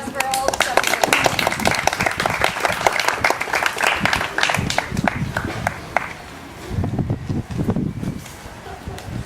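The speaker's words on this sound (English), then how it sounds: "So let's give them another round of applause for all the stuff they did." Audience applause follows a school production of The Taming of the Shrew, dense clapping filling most of the stretch before thinning out near the end, with voices mixed in.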